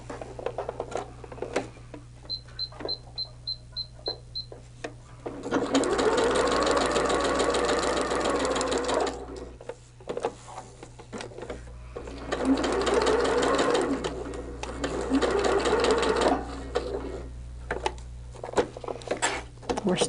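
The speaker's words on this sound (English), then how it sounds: "we're going to put the basting stitch around and then we'll trim it" A sewing machine runs a basting stitch around fabric in two long, steady stretches of rapid mechanical stitching, with short clicks and handling sounds before and between them and a steady low hum underneath.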